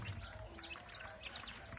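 Young Sonali chicks give a few faint, high, brief peeps spaced across a quiet, murmuring background.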